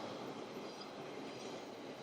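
A metro train passing on a Tokyo street in chilly weather, a steady broad rumble of rolling wheels and rail noise that holds evenly at moderate level throughout, with no talk over it.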